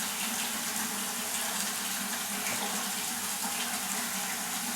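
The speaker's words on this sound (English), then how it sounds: "bucket over here to wash the WD-40 off of them once they get marked" Water sloshing and running in a bucket used to rinse WD-40 off golf balls, a steady close hiss of flowing water with no speech.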